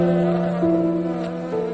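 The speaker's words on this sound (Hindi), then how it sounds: "इन प्यालियों पर सैकड़ों मक्खियां भिनभिना रही थी।" Hundreds of flies buzz over a scatter of empty tea cups, a steady, close droning hum that holds without a break and has no voices over it.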